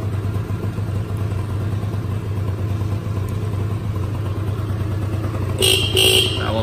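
Horn of a Honda Scoopy SH75 scooter with a weak battery, a brief double honk near the end over a steady idling engine close by, with no voices.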